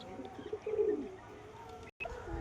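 Pigeons in a loft give a soft, low coo close by, a brief rolling call amid quiet background hum, with no talking.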